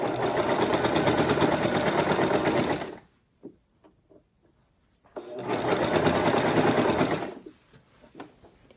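Sewing machine stitching in the ditch while quilting a small quilt from the middle to the edge, running in two steady, loud bursts separated by a pause filled with faint handling clicks.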